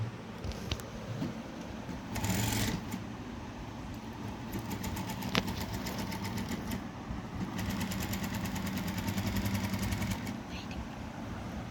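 A sewing machine stitches a blouse lining in a steady, rapid clatter, with several short runs and a sustained burst near the end. Someone talks over it now and then.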